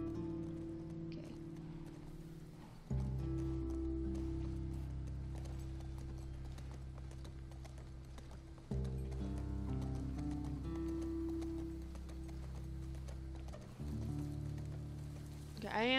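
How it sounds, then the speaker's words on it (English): Rhythmic video-game horse hooves clip-clopping at a steady pace over a low rumbling drone, in The Last of Us Part II, with the sound surging louder in a few places. "I don't know how to control the horse"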